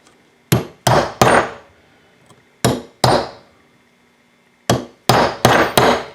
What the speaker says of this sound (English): Getting my really big hammer. See if we can get in there and knock that out